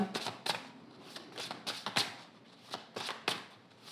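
A deck of tarot cards being cut and handled at close range, giving a series of crisp papery riffles and slaps roughly every half second, with no talk.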